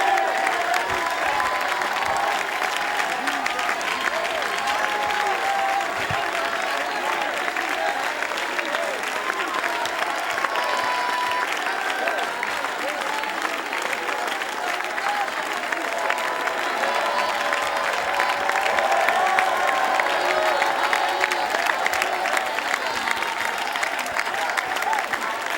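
Church congregation claps and cheers in sustained, dense applause that fills the room for the whole stretch, steady and loud, with scattered shouts and voices mixed into the crowd noise.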